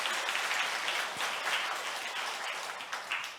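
A church congregation at a Sunday worship service applauds together, a soft but continuous wash of many hands clapping with no talking over it.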